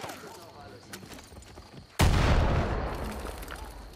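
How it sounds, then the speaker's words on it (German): An explosive charge detonates in Far Cry 5: after quiet game ambience, a sudden loud blast bursts out midway and rumbles on, slowly decaying. "Wieso ist das explodiert?"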